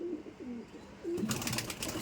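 A Rampuri pigeon coos in low, soft repeated notes, then a brief burst of wing flapping or rustling cuts in near the end.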